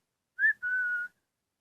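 A person whistles two clear, fairly loud tones, a short rising note followed by a longer steady held note, with silence around them.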